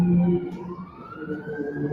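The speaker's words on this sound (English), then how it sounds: "they got the sirens going off like crazy down there" Emergency vehicle sirens wail in the distance, a rising and falling tone that sweeps upward steadily over the traffic rumble, with no talking in the clip.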